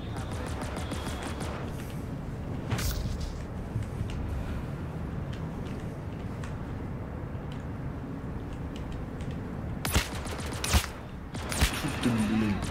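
Gunfire in the video game Star Citizen, set in Lorville: a dense backdrop of continuous firing throughout, with sharper loud bursts near the end, heard under a speaking voice.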